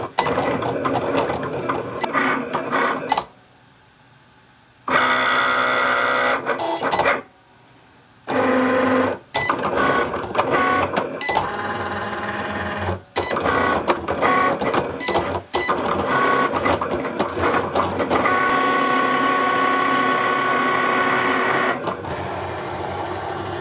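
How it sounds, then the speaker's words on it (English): A Cricut machine writes with a pen and then cuts card. Its whirring motor runs in long mechanical stretches with stepping, ratcheting movements, broken by brief pauses of near silence. "It will now write with the pen before starting to cut."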